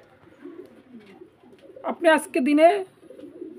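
A pair of Roman Girl pigeons coos in a few short, soft bursts close by, with a person talking over and around the calls.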